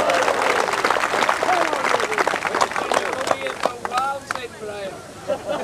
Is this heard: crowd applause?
yes